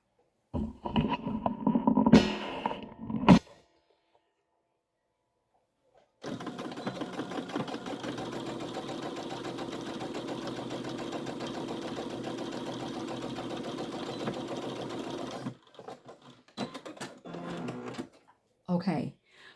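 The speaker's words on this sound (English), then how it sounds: "we're going to sew the bottom of this" Sewing machine stitching along the bottom edge of a fabric hanging storage pod, a steady, close whirring run of about nine seconds with brief handling sounds and short bursts of talk before and after.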